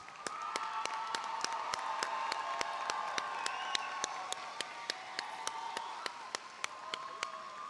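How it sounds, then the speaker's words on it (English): A room of people at a graduation ceremony applauds the graduates, a soft, continuous patter of clapping with sharp, isolated claps standing out at a distance, and no talking over it. "I'm going to ask the whole room to give our graduates a round of applause."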